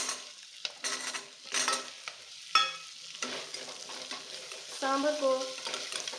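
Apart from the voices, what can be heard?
pumpkin, coriander and curry leaves frying in pan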